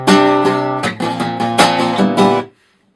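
A guitar plays measure 143 of a song, a quick run of bright, ringing chord strums, loud and close, then cut off sharply into silence near the end.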